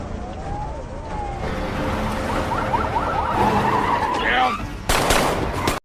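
Film car chase with police cars pursuing a vehicle through Dhaka: revving engines, screeching tires and wailing sirens build up, ending in a sudden loud burst.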